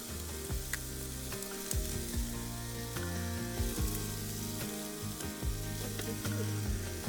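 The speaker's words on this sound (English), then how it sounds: "We're having to fix steaks tonight because haven't caught any fish here." Steaks sizzle and fry steadily on a camp stove beside a lake in the Colorado wilderness, a continuous close crackling hiss that runs alone without any talk.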